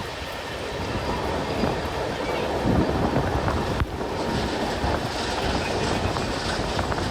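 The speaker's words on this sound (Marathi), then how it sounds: "या पूर्ण जंगलातून आपली आता रेल्वे निघत आहे." A train rolling through forest on the line toward the Narmada ghats, a loud continuous rumble with rhythmic wheel clatter and wind buffeting, no talk.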